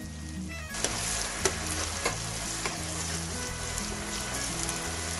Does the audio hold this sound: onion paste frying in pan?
yes